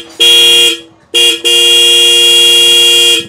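A loud, bright Hella dual-tone horn on a Hero Xtreme 125R motorcycle blasts three times up close: a short toot, another short toot, then a long sustained honk.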